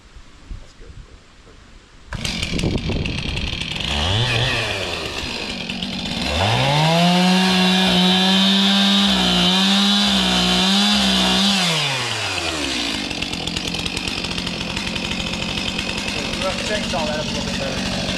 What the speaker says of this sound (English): Chainsaw that up a little bit better.